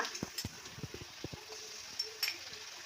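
Two tablespoons of ginger garlic paste and turmeric powder fry in a pan for pav bhaji, a faint sizzle under a series of soft spoon taps and scrapes against the pan, closely spaced and fairly quiet.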